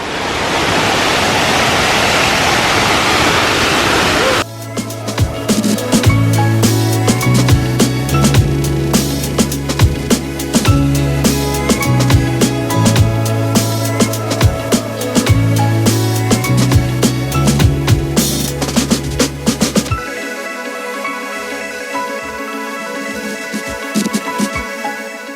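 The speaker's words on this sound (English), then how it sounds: "Guys, we're here at Adom Waterfalls." Adom Waterfalls in Ghana roars as a loud, steady wash of falling water for about four seconds before music takes over and masks it for the rest.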